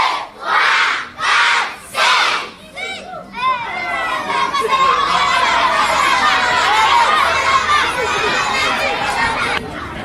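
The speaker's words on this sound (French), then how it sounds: "On applaudit très très fort pour elle." A group of children at an NGO gathering claps and cheers: a few rhythmic bursts at first, then sustained excited shouting and cheering from many young voices.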